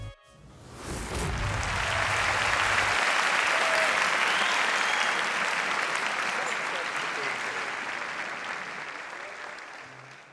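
A studio audience at a Turkish talent show applauds a young darbuka player, dense clapping swelling up quickly after a brief voice, holding loud and steady, then fading slightly toward the end.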